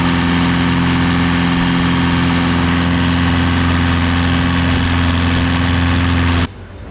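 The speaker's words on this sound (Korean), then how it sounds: "이렇게 다시 롱테일 보트를 타고 아우낭 해변으로 돌아갑니다." A longtail boat engine runs steadily and loudly near a beach in Ao Nang, Thailand, a dense droning hum with strong low tones that cuts off abruptly near the end.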